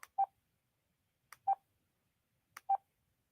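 Telephone dialing tones: three short, clear beeps spaced evenly about a second and a quarter apart, each preceded by a faint click, alone against silence.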